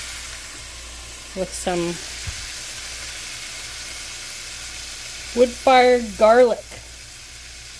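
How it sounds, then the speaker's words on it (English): Meat searing in olive oil gives a low, steady sizzle running under a man's brief speech at two points. "Gonna let it sit in this olive oil and sear a little bit."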